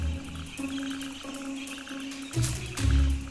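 A giant frog in Australia croaks in deep, resonant pulses, with several calls repeating close by against a quiet natural background.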